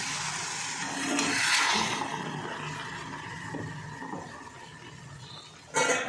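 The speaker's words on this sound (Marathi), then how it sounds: "आता तेच पाणी घालून घेते मी" A steady rush of water pours into a cooking pot for several seconds, swelling early and then tapering into softer trickling, ending with a brief clatter.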